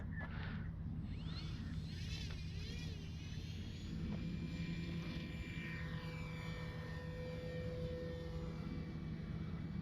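A Kavan Bristell B-23 RC airplane flies a knife-edge pass, its small motor giving a steady buzzing drone with gently shifting pitch, faint and distant under wind.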